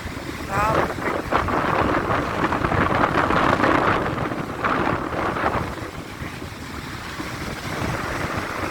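Stormy sea at Mahmutlar, with waves crashing and strong wind buffeting the microphone in a steady, loud roar throughout, surging and easing in broad swells.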